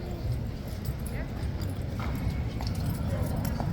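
Horses' hooves clip-clop at King's Guard in London during a street protest march, steady and fairly close under a constant wash of crowd noise.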